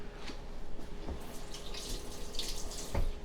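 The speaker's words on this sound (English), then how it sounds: "Wash my hands." A kitchen tap runs in a steady, close splash as hands are washed at the sink between steps of making smoked mashed potatoes, with a few louder knocks and splashes toward the end.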